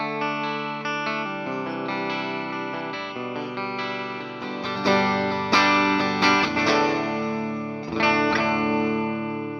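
A 2008 Gibson Longhorn Double Cut electric guitar through its piezo output plays sustained chords and picked notes with a chorus-like shimmer, loud and steady, without any voices.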